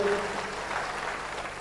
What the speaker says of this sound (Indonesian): Tepuk tangannya paling meriah buat Tuhan kita.